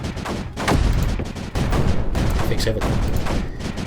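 Video-game gunfire from Creeper World 4, dense rapid bursts of weapon fire and booms running continuously and loud, with someone talking over it.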